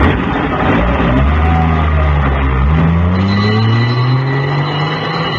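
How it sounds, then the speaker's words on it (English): An ambulance arriving as a radio drama sound effect: a loud, steady engine drone with a rising, gliding whine, continuous throughout with no voices. "here's the ambulance."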